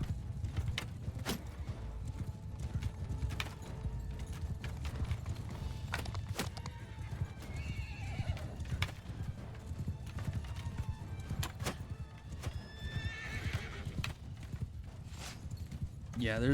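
A mass of horse archers' mounts gallops across a Mount and Blade II: Bannerlord battlefield with rapid, overlapping hoofbeats, sharp clacks and occasional neighs, while voices mutter faintly beneath the din.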